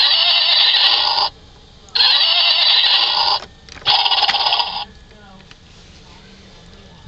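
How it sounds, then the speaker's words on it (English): A 1996 Empire Industries plastic toy horse plays three bright electronic whinnies one after another in short, even bursts, followed by quiet. "you'll get a whinny."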